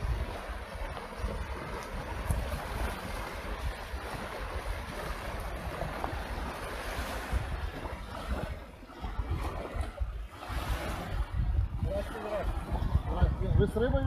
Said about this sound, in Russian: приехала лодка с рыбаком